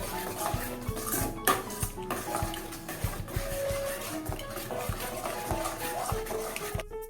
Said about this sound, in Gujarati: આ મિશ્રણ એડ કર્યા પછી આપણે ચલાવતા રહીએ નહીં તો કઢી ફાટી જાય